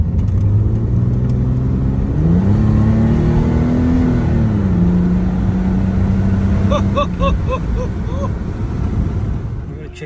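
A car engine on its first drive after repairs, with a blocked cylinder head gallery, revs hard at full throttle, rising and holding a loud, close whine before easing off, with voices talking over it.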